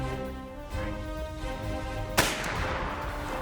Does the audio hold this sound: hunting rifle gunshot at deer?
yes